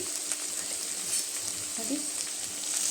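Capsicum pieces with ginger garlic paste sizzle in a pan for a pasta dish. The frying hiss is steady and close, with a few soft stirring scrapes.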